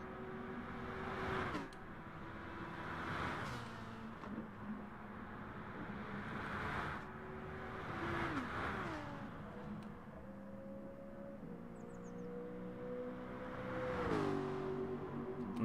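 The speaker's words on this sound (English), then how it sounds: "That Aston sounds so good" Aston Martin race car engine in the Gran Turismo video game, a steady drone with harmonic whine that rises and falls through repeated gear shifts and revs, continuous and moderately loud, with no talk.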